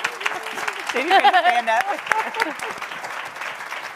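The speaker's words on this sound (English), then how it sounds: "let's do a round of applause for these two wonderful women" A round of applause rises for two women on stage at a workplace culture summit, broad clapping running throughout the clip with a voice speaking over it.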